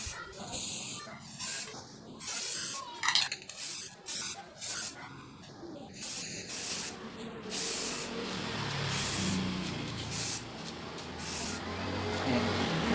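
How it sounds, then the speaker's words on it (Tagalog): A spray paint can hisses onto a recycled glass jar, first in short separate bursts, then in one long continuous spray, close and loud with no talking. "So, spray na natin siya."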